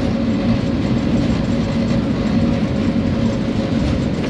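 A Pakistan Railways locomotive runs along the tracks, heard from inside the cab as a loud, steady rumble with a continuous engine drone and rattling clatter.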